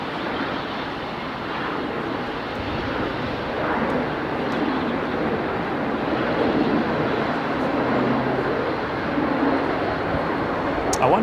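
An Airbus A320 airliner starts up at Melbourne Airport, a broad, steady engine roar that slowly swells and stays loud throughout.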